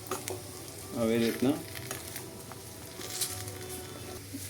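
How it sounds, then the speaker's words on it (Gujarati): Khajur paak date mixture is stirred in a pan with a soft scraping, squelching rhythm under a steady low background hum, and a brief spoken phrase comes partway through. "હવે પ્રોપર પાછું મિક્સ કરી લેશું"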